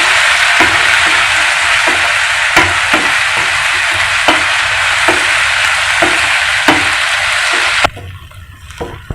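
Chopped tomatoes and onions fry in oil in a pan with a loud, continuous sizzle, broken by regular scraping stirs, before the hiss suddenly drops away near the end to quieter clatter.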